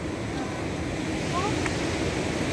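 Waves at Galas Beach in Dipolog City at high tide, a continuous rumbling wash of surf with some wind, fairly loud and steady.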